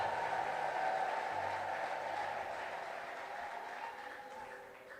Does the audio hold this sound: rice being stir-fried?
no